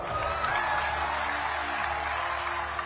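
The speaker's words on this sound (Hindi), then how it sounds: "हो जाए ताली आज आपके नाम पर।" An audience at a rally in Assam breaks into applause, a steady wash of many hands clapping at a distance, fairly faint and even throughout with no speech over it.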